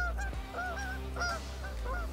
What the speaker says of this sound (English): We got geese honking around.